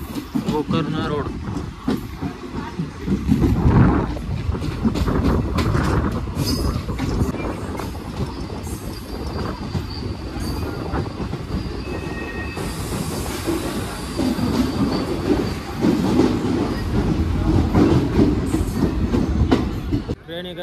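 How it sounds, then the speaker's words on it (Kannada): A delayed passenger train on the Byndoor to Madgaon line pulls into Gokarna Road station with a loud, continuous rumble, rattling carriages and high wheel squeals, heard close from on board with some talking in the background. "ಟ್ರೈನ್ ಈಗ ಗೋಕರ್ಣ ರೋಡಿಗೆ ಬಂದೈತಿ"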